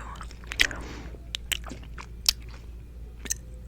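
Gum chewing sits close to the microphone as sparse, crisp wet clicks and soft squishes, spaced irregularly over a quiet background.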